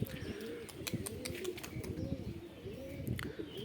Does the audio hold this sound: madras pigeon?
yes